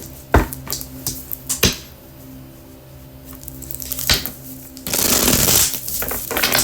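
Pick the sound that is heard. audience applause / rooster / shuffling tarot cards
shuffling tarot cards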